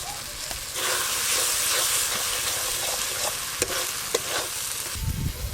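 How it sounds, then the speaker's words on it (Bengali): Spice masala mixed with crab fat sizzles in a hot pan while being stirred, giving a loud hissing fry with scraping stir strokes and a few sharp clinks. A brief low thump comes near the end. "মশলার ওপরে এই কাঁকড়ার ঘিটা দিয়ে একটু ভালো করে নেড়ে নেব"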